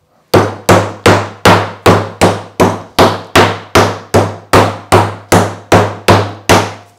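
Schnitzel meat being pounded flat under plastic film with a meat mallet in an outdoor terrace kitchen: fifteen loud, evenly spaced heavy thuds, each with a short ringing decay, close up and alone.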